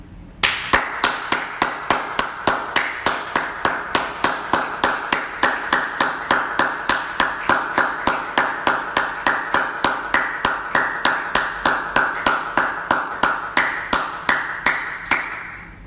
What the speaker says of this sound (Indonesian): saya mengajak kita tepuk tangan selama 10 detik